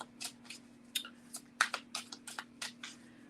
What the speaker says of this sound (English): after I bridge shuffle 4 times to open the deck